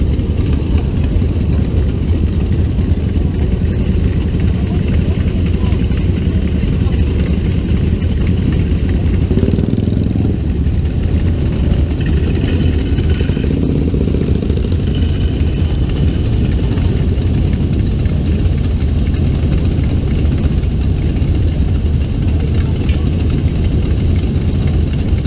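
Several custom chopper motorcycles idle together at an outdoor meet, a loud, steady low rumble of engines that runs continuously with no pauses and no talk over it.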